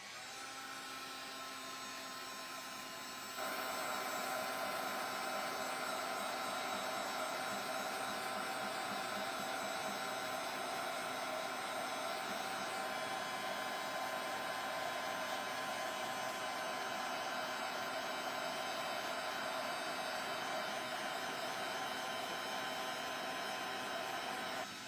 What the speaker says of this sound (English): If I can find my heat tool.